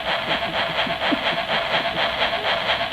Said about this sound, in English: Boy, that's a train that's familiar to me.